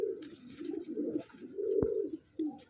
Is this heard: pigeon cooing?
yes